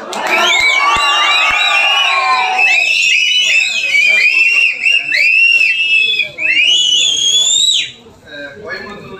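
A large public crowd at a stage event whistles loudly and repeatedly, shrill sliding whistles layered over continuous cheering and shouting, close and dense, easing off briefly near the end.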